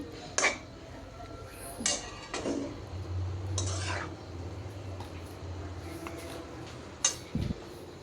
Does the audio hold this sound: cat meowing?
no